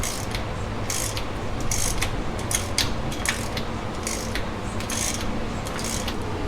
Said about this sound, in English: we're gonna rotate the engine over a few times